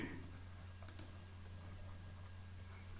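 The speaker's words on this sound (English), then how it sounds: "I will type Word." Typing on a computer keyboard, faint scattered key clicks over a steady low electrical hum in a quiet room.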